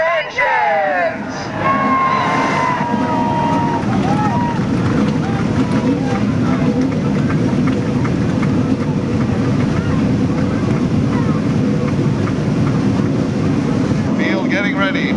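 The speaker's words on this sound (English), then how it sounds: "Start Your Engines!" Stock car engines fire up for the 1996 Busch North feature at Riverside Park Speedway. A brief announcer's voice gives way to a dense, loud, continuous roar from the pack of engines that holds steady to the end.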